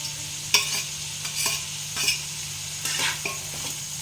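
Soybean chunks frying in a cooked-down spice paste in oil, with a steady sizzle broken by several sharp scraping stirs of the spoon against the pan, close and moderately loud.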